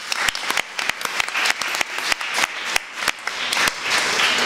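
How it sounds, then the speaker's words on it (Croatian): An audience at a conference panel claps together in sustained applause, a dense, steady patter of many hands that carries on for the whole few seconds with no speech over it. "jedan veliki aplauz za Gong"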